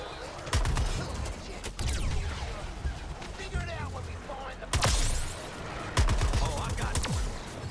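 Gunfire in the video game Suicide Squad: Kill the Justice League: several sharp bursts and rapid volleys crack out at uneven intervals over layered game effects and background ambience.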